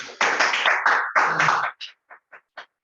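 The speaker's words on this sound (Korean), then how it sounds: "박수 한번 해드리겠습니다." An audience at a Korean business seminar claps briefly: a burst of several loud, close claps, then a few scattered, fading single claps trailing off into quiet.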